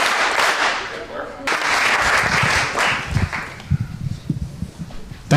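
An audience at a Dalai Lama Center event claps along, a dense burst of applause that thins into scattered individual claps, with a speaking voice over the crowd.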